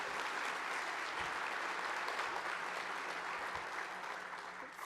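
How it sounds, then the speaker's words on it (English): Audience at an awards gala applauding the honorees, a steady, dense roar of clapping that fills the whole stretch and tapers slightly toward the end, with no talking over it. "Let's give them a round of applause."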